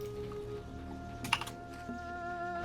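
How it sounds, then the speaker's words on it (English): A loud computer keyboard clatters with steady, quick keystrokes and a brief burst of sharper clicks midway, close and alone over a faint background hum during a World of Warcraft co-op session. "my keyboard is just as loud."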